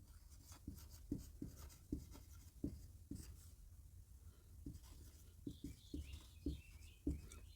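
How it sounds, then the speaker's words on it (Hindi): A pen writes a sentence in Hindi script on paper, making soft, close scratchy strokes in quick irregular bursts with brief pauses in a quiet room. "अब एक सेंटेंस बहुत इंटरेस्टिंग लेते हैं, देखिए हिंदी में लिख दे रहा हूँ।"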